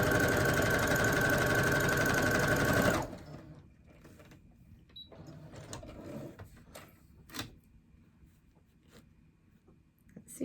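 A sewing machine stitches fabric pieces together in a loud, steady, fast mechanical whir for about three seconds, then stops, leaving faint handling clicks and rustles.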